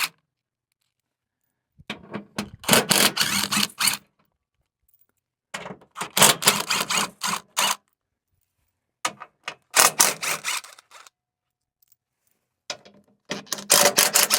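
Ratchet with a 1/2 inch socket turning bolts, three long bursts of rapid clicking ratchet strokes separated by silent pauses, close and fairly loud, no talking.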